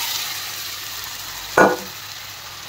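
Onions cook in a pan with a little water added, giving a continuous sizzle and hiss broken by one short, louder sputtering burst midway. No one speaks.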